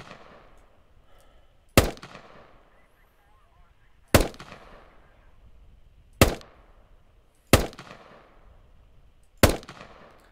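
M4 rifle with red dot sight fired in a video game at a range, five single loud sharp shots spaced about two seconds apart, each with a short decaying echo.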